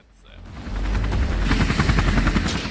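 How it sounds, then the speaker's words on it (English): Cartoon helicopter flying close by, its loud rhythmic rotor chop rising quickly and then holding steady. "That's a helicopter."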